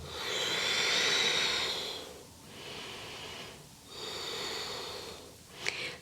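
Deep yoga breathing held in warrior two pose: slow, airy, audible inhales and exhales in long waves, close and steady, with no talking.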